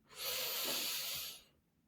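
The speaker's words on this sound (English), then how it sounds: "bring my hand to my chest and breathe. Breathe a little bit more." One deep, slow breath is drawn close to the microphone, a breathy rush that lasts about a second and a half before it fades.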